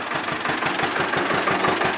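A 1963 Ursus C-325 tractor engine idles steadily and close, its low, regular knocking pulse beating evenly throughout with a rough mechanical clatter above it.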